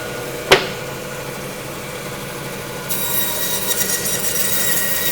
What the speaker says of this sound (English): get them over on the bandsaw.